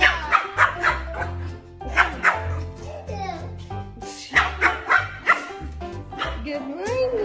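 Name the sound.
dog Cloudy barking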